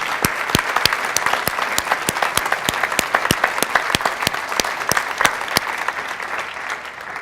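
A room full of people gives a round of applause for a campaign committee at a theatre press announcement, steady clapping with sharp individual claps standing out near the front, sustained throughout.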